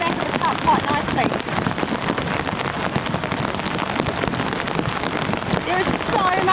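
Heavy rain pours steadily onto and off a camping tarp, a dense, loud, continuous hiss with pattering drops throughout, a voice faintly audible beneath the downpour.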